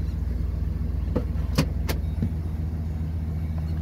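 A 2014 Chevy 3500 truck creeps in reverse with a steady low engine drone, close by, broken by a few brief clicks and knocks.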